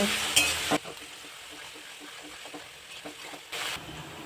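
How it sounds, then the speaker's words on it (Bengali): Onions fry in a pan with a spoonful of salt for mutton kosha, giving a steady close sizzle with stirring scrapes and louder bursts at the start and end, and no one speaking. "পেঁয়াজটা তাড়াতাড়ি ভাজার জন্য 1 চামচ লবণ দিয়ে দেব। পেঁয়াজটা ভালো করে ভেজে নেব।"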